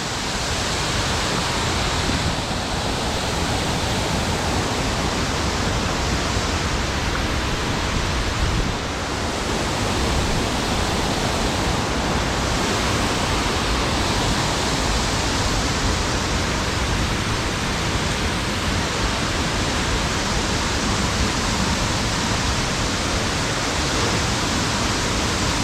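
Bridal Veil Falls at Kagawong pours in a loud, unbroken rush of falling water, a broad steady roar heard up close with no voices over it.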